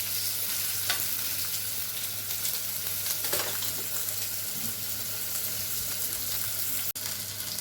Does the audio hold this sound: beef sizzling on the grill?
yes